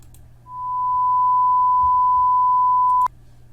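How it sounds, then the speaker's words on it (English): A steady pure sine-wave tone, played out of phase, holds for about two and a half seconds, then cuts off abruptly with a click. "If both sine waves are fully 180 degrees out of phase like this"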